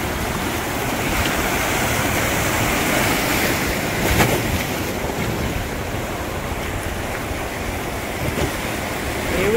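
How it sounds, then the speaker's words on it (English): Class 3 whitewater at Clay Hill Rapids on the Rogue River makes a loud, dense, continuous roar of rushing water with wind buffeting the microphone. "Clay Hill Rapids. This one's a class 3."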